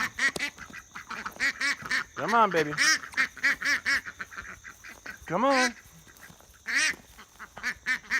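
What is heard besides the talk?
duck quacking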